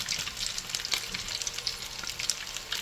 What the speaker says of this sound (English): have space in your frying pan for the fish cakes to breathe while they're frying